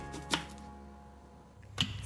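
A knife slices broccoli lengthwise on a board while baby food is prepared: two short, crisp cuts, the first near the start and the second near the end, standing alone against quiet room tone.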